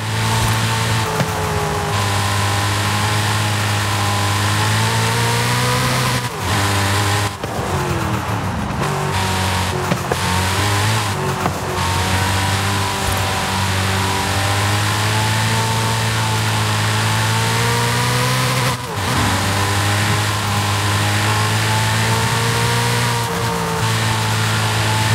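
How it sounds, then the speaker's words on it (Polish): A powerful 1500-horsepower car with manual gear shifts in Forza Horizon 5, from the American Automotive pack. Its engine drones steadily and loudly throughout, with brief pitch shifts and revs between gears and no talking. "Dźwięk samochodu nieco zmężniał, mam wrażenie."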